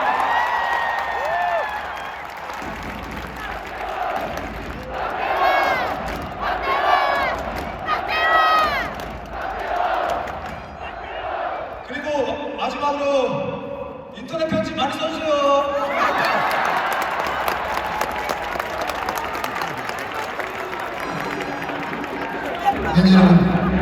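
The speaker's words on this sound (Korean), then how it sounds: "우리 박재현 선수가 강하고 건강하게 인생하을 바라는 응원의 박수를 다시 한번" Crowd applause and cheering at a professional league match ceremony. It swells after a stretch of announcer talk and holds steady and dense to the end.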